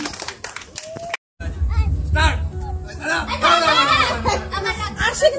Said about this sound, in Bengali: জোরে হাততালি, জোরে হাততালি।